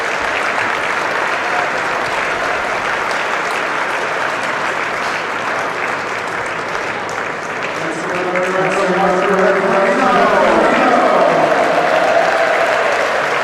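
Sustained crowd applause at a Calgary National Bank Challenger tennis tournament after a women's singles quarterfinal-clinching win, steady clapping that swells louder toward the end with a voice talking over it.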